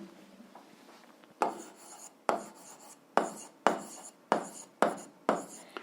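A pen writes an algebra solution on paper, heard as seven sharp, close scratching strokes at a steady rhythm, each fading quickly, with no voice over them.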